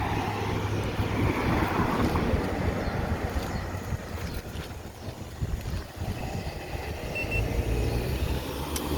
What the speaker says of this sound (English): Wind is starting to pick up.